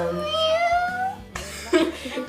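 A person imitates a cat with a drawn-out, gliding meow, followed by a short burst of laughter or chatter from nearby voices, close and fairly loud.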